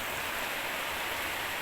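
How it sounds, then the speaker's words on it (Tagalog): Steady rain falls on Siargao Island, a dense, even hiss with no breaks and no voices over it. "Malamig. ulan dito."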